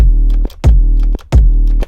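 Three heavy layered kick drum hits with 808 bass, long booming sub-bass tails, each punchy attack ringing out for about half a second before the next strike; loud, no talking.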